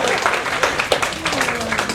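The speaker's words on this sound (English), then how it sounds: "Everybody give them a round of applause" Applause from a seminar audience after a show of hands, dense and steady for two seconds, with a voice talking over it.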